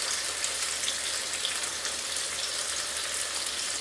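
Steady, dense sizzling and crackling of rabbitfish frying in hot oil in a lidded pan over medium heat, continuous and close, with no voices.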